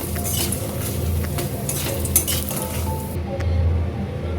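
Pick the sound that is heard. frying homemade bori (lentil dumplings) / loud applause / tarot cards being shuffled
frying homemade bori (lentil dumplings)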